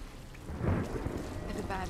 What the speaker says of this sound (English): that's just the thunder